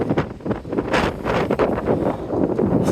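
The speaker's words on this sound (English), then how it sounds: "So windy." Outdoor wind buffets the microphone in loud, rumbling gusts that surge and ease continuously, with no voices present.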